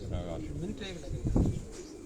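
A pigeon coos softly nearby, its low throaty calls half-buried under people talking close to the recorder.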